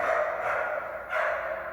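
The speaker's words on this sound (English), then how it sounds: "Neighbors with their dogs." Neighbours' dogs bark from some distance in an indoor horror-film scene, two muffled bursts of barking separated by a short pause, moderately faint and with no voices.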